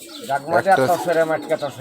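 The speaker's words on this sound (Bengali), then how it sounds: "মাদি কবুতর" Female pigeon cooing up close in a short burst of soft, throaty coos, with people talking over it.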